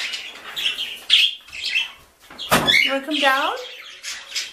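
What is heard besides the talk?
Goldie's lorikeet squawking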